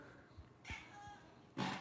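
A cat meows twice indoors, a faint short call early on and then a clearer, louder meow near the end, over quiet room tone.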